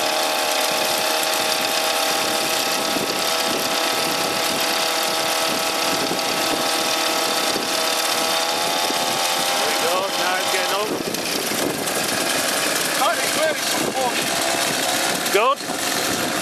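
A small 49cc egg-shaped motor runs on its first test with a close, continuous buzzing drone whose revs waver and rise, while people talk over it.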